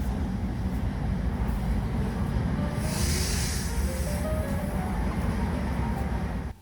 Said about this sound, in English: And here's our train arriving from Christchurch.